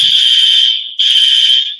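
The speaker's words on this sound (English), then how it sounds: "That's the fire alarm." A loud, piercing fire alarm tone blares continuously, with one brief break before it resumes at full strength.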